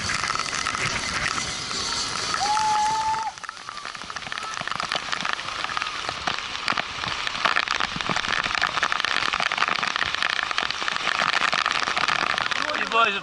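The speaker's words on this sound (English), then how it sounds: "the rain is coming up the river towards us" Steady rain hits surfaces at the start of the wet season in Vang Vieng, Laos, a dense, even hiss heard nearby throughout, with a short whistle-like tone early on.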